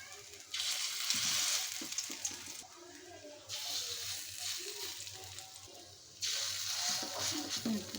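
Shrimp fritters fry in a little oil in a pan with a broad, hissing sizzle that swells and drops in bursts, close by, with faint voices underneath.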